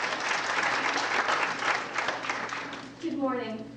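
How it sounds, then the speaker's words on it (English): Audience applause for Judy, a steady roar of clapping filling the room for several seconds and easing slightly near the end as a voice begins to speak over it. "a big round of applause"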